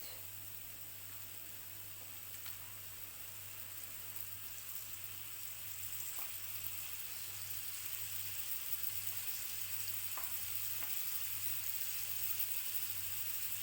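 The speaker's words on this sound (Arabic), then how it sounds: "نزيدو خلاو يتقلى شويه." Onions frying in a pan, giving a soft, steady, close sizzle over a faint low hum, continuous with no clear breaks.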